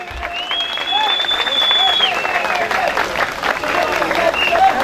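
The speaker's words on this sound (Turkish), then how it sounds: "Bir alkış istiyorum." A crowd at a football club's championship and promotion celebration applauds in a dense continuous wash, with whistles gliding over the clapping and voices mixed in throughout.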